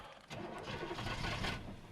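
A cold Chevrolet K5 Blazer engine cranks in a blizzard, catches after a brief pause and settles into a steady, loud running rumble up close, with no talking.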